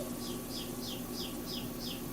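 Birds chirp in a regular series of about six short, high calls, each evenly spaced over a steady background hum.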